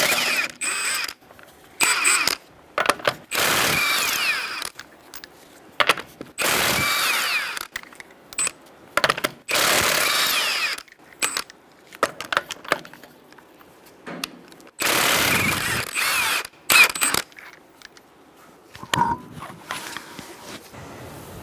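A power tool spins a 21mm socket to remove the front wheel of a Kia Soul, loosening the lug nuts in repeated close, loud bursts of ratcheting whir broken by short pauses.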